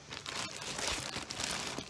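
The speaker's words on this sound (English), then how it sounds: "This is in a glamorous plastic bag." A plastic bag crinkles and rustles close by in a burst of irregular crackles that runs throughout, with no voice.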